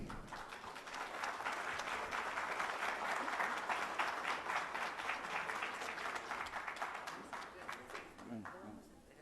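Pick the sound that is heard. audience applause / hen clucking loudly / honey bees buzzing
audience applause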